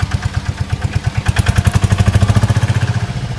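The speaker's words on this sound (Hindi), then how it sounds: "देखो देखो अब CNG ऑटो रिक्शा को चलाते हैं।" A toy CNG auto rickshaw being driven gives off a loud, close, rapid rhythmic putter like a small engine, the regular pulses quickening and growing denser as it goes, with no talk over it.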